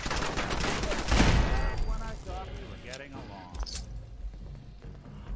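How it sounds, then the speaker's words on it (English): Video-game gunfire directed at the player: a loud, dense burst of rapid shots in the first two seconds, then scattered fainter shots and impacts, with a voice talking over it. "Who's shooting at me?"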